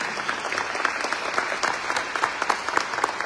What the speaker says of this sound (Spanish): Démosle un fuerte aplauso a la palabra que hemos proclamado en esta mañana